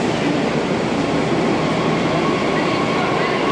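A Delhi metro train runs at Kashmir Gate station in the early morning. Its loud, steady rumble and rolling rattle fill the whole clip without a break.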